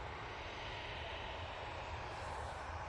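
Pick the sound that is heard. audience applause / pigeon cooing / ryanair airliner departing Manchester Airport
ryanair airliner departing Manchester Airport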